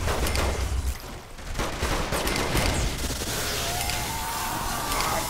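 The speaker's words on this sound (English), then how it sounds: "Oh, machine gun." Machine gun fire in the video game Saints Row 3, a rapid sustained burst of loud shots filling the scene with little talk.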